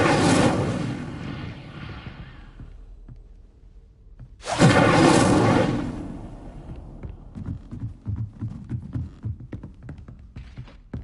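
An Incendio fire spell is cast twice in Hogwarts Legacy: two loud, roaring whooshes of flame a few seconds apart, each swelling and fading. Quieter rumbling and small crackles fill the gap between and after them.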